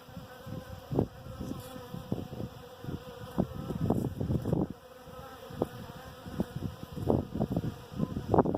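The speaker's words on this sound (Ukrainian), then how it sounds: "Одна бджола витягує другу, От тянуть, одна другу тягне." Scout bees grappling and fighting one another while competing to take over a new hive, giving a close, busy buzzing with repeated sharp bursts of wingbeats rising and falling over a steady insect hum.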